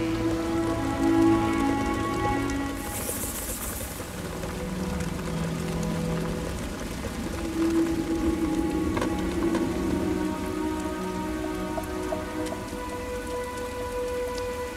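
Heavy rain pours steadily over African highlands at around 4000 m among lobelia plants, a dense, even hiss of drops hitting surfaces with soft sustained tonal music underneath throughout.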